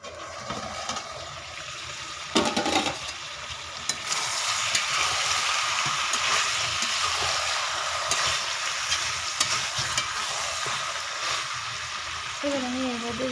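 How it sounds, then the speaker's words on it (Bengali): Chicken curry sizzles and fries in a pan while being sautéed and stirred, a steady close crackle throughout with a few louder clanks of the spoon and a brief voice near the end. "কষিয়ে নেব।"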